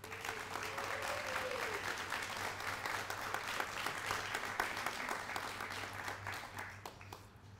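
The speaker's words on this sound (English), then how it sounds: "Please join me in an enthusiastic round of applause for Fort Sam's own." An audience gives a round of applause for Fort Sam's own 323rd Army Band jazz combo at a centennial book launch, a sustained patter of clapping at moderate distance over a steady low hum.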